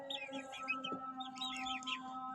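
Small chicks chirp in a steady stream of high, thin peeps among roosters in a coop, with a constant low hum underneath.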